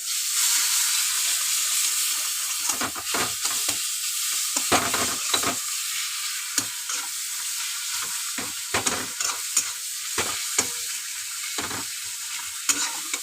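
Mango frying in a pan gives a continuous loud sizzle and hiss, broken by repeated scraping strokes of a spatula stirring the pieces at an irregular pace, close up with no talking.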